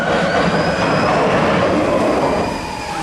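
A small railway train on the North Yorkshire coast near Scarborough rumbles loudly and continuously nearby, with a faint metallic squeal from the wheels that fades slightly at the end.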